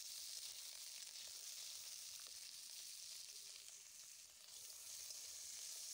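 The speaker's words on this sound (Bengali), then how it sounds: "খুব ভালো করে নেড়ে চেড়ে একটুখানি ভেজে নেব সবজিগুলো।" Vegetables sizzle and fry steadily in a hot pan while being stirred, a continuous broadband crackle with occasional scrapes, close and alone without speech.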